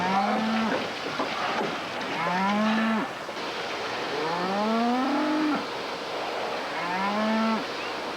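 Holstein dairy cows moo repeatedly in a barn, several long, loud bellowing calls one after another close by, with no talk over them.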